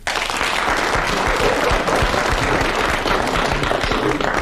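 A studio audience at a panel game claps steadily and loudly for the whole stretch, a dense, even wash of hands with no voices over it.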